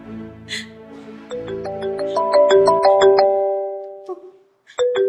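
A mobile phone ringtone plays a rising, chiming melody of bright tones, loud and close, then stops briefly before starting again.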